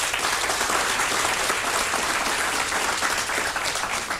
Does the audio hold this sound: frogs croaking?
no